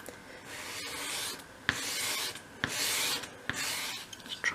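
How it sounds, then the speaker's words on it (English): A small wooden piece for a 1/12 scale miniature shop is sanded by hand, with four long, close rasping strokes separated by brief taps, and no one speaking. "I'm going to need to sand a little bit off that."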